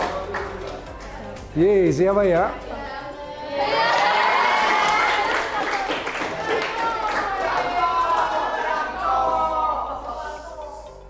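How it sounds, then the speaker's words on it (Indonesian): A classroom of students claps and cheers for a classmate, a steady wash of applause and excited shouting that swells after a brief shout, with children's and a teacher's voices talking over it throughout. "Kasih tepuk tangan"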